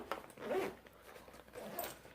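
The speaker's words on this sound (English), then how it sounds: "Zip this back up." Zipper on a pocket of a large KastKing tackle bag being closed, two brisk pulls close by, the first longer and the second following after a short pause, with no talk.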